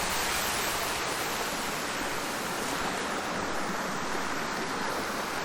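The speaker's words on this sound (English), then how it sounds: "And of course, there's the water crossing." A stream runs across a hiking trail crossing near Keown Falls on Johns Mountain, giving a constant, even rush of flowing water close by with no voices over it.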